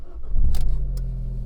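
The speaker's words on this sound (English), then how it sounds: "you can hear that Monza exhaust." An Abarth 595 Competizione with a Monza exhaust fires up close by: a starter crank, then a sharp catch and rev flare that settles into a steady, deep, throaty idle.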